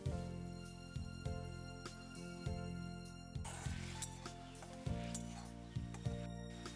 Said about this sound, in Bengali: এবার দিয়ে দেব টমেটো পেস্ট। ভালো করে নাড়তে হবে, যাতে নিচে লেগে না যায়।